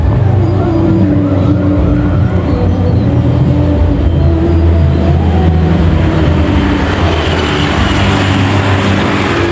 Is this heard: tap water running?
no